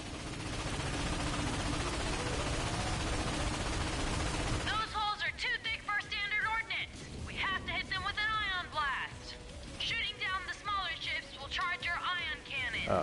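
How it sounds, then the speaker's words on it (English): Space battle in a video game, with an ion cannon firing at capital ships: dense, loud bursts of gunfire and energy blasts give way to rapid shots and chirping effects, with people talking throughout. "Use the Star Watch ion cannon against those capital ships!"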